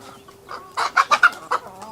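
A quick run of chicken clucks from a village coop, several short bursts in close succession, nearby and clear against a faint background hum.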